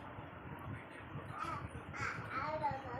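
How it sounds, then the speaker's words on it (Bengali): Several crows caw repeatedly at moderate distance, the calls rising and falling over steady low background noise, with faint voices in the background. "হ্যাঁ কাক।"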